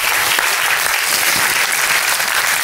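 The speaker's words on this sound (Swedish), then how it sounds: "Så välkomna henne med en applåd." An audience at a startup event stage talk claps steadily, dense even applause filling the whole stretch without pause.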